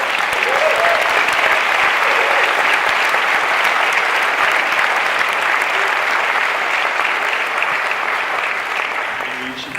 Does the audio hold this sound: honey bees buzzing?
no